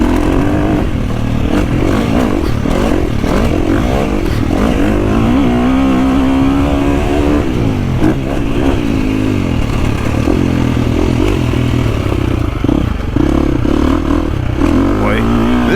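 A KTM 350 dirt bike on its stock exhaust, a loud, barky engine note rising and falling as the throttle is worked, with clattering and rough off-road scraping mixed in, close up throughout.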